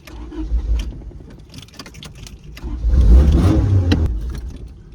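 A Honda motorcycle engine cranks and catches, then revs up loudly and settles back, close by, with faint rattling and jangling around it.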